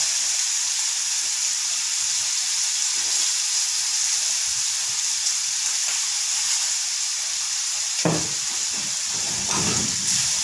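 Termite mushrooms stir-frying in a hot pan with holy basil seasoning, giving a loud, continuous close sizzle and hiss, with a brief scrape of stirring near the end.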